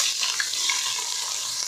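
Onions frying in a pan with turmeric and chilli powder for chicken 65 biryani, an even bright sizzle, close and steady, with no talking.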